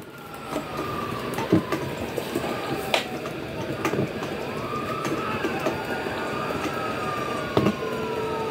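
A police car siren wails during a chase, its rising and falling tone sweeping over a dense rumble of traffic and vehicle noise, with a few sharp knocks and clatters along the way.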